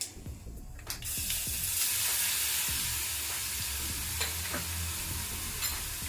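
Coarsely crushed garlic paste hits a hot pan and sizzles loudly and steadily close by, with occasional stirring scrapes, while cooking bitter gourd garlic karam.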